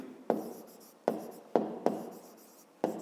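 A pen or pencil writes on paper during a fifth-grade math exercise, with five or six distinct stroke attacks spaced irregularly and close by, each followed by a brief scratchy trail.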